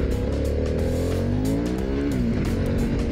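A 2022 Harley-Davidson Pan America 1250 Special accelerating hard in sport mode with traction control off, its engine droning loud and rising in pitch as it revs out, steady and close throughout with no talk.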